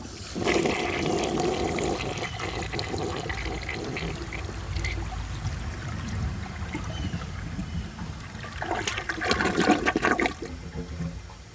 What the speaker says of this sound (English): It took a washcloth and a grocery bag and one flush without help